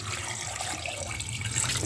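Water splashes into a cooking pot holding a pork leg, a brief continuous pouring hiss and gurgle, close and moderately loud, with no talking.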